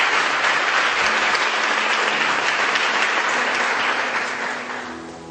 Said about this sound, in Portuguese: Você pode dar um aplauso a esse Deus maravilhoso nessa tarde?